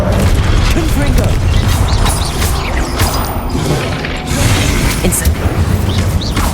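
Confringo, the fiery blast spell in the video game Hogwarts Legacy, fires in a string of heavy booms and crashing impacts amid dense game action and mechanical clatter, loud and close, with a voice speaking over it.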